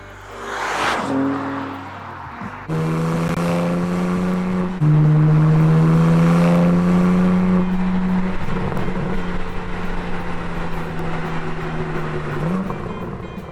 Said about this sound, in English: And it's packing a 543 horsepower twin-turbo 3-liter inline-6 engine